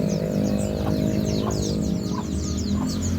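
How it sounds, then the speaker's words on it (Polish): Chirpy bird calls, including parrots, repeat over a steady, loud background hum at a Dutch lake, with occasional clucking notes from fowl nearby. "O, tam są takie różne ptaki."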